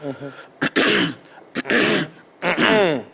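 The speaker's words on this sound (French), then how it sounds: "je vais racler la gorge 3 fois pour dire la vérité." Someone clears their throat three times in forceful, raspy bursts separated by short pauses.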